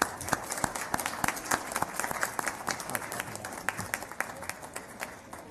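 An audience at a meeting gives a round of applause for student art winners, with dense, fairly distant clapping that holds steady for several seconds.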